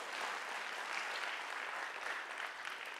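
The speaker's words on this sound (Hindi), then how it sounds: "ताली थोड़ी हल्की बज रही है" Light clapping from a lecture audience at a leadership session, a soft, fairly even patter of many hands held at low volume for a few seconds with no voices over it.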